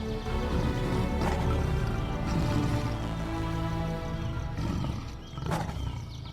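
Big cats, lions, roaring after a hunt: deep, rumbling roars layered over one another, loud and sustained throughout, with no talking.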